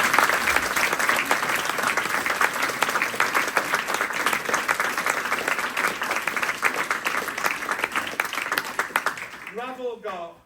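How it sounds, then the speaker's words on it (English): Big round of applause from an audience at a martial arts club instructor promotion ceremony, steady dense clapping for about ten seconds that fades out at the end, with voices mixed in. "So let's have a big round of applause."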